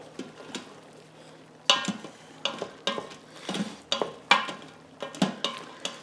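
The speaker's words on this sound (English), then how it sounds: "stir it around a little bit so we can find one pepper to take out" A spoon stirs Cuban black beans in an Instant Pot, rhythmic scraping strokes against the metal inner pot with sharp clinks, close and fairly loud, repeating about every half second.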